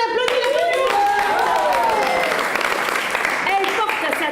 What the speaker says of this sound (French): On applaudit la commune.